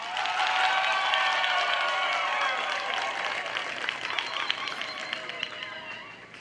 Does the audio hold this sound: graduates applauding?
yes